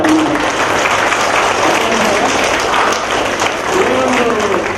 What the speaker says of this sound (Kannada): ಜೋರ್ ಚಪ್ಪಾಳೆ ಬರಬೇಕು.